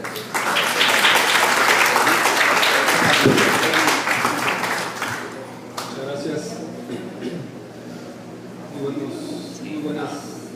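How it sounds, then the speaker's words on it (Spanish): Audience applause at a public forum on drinking water, a loud, dense wash of clapping for about five seconds that then thins into scattered claps and murmuring. "Un aplauso, por favor."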